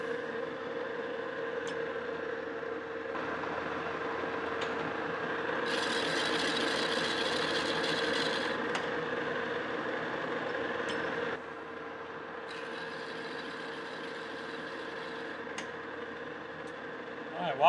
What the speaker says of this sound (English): while I'm single point threading these, right now I'm doing about a 5/1000 in feed on the compound